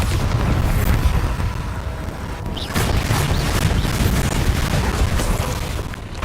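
Booming magical explosions from the Bombarda spell in Hogwarts Legacy, heavy low rumbling blasts that roll on continuously, with a fresh burst landing partway through amid the dense combat noise.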